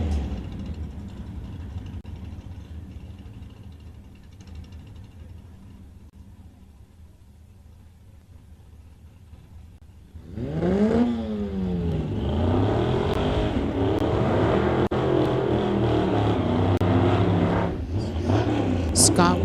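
A 1953 Chevy pickup and another car line up at a drag strip, first distant engine rumble under announcer talk, then a loud roar as engines rev and accelerate hard down the track, sustained and rising, with voices continuing.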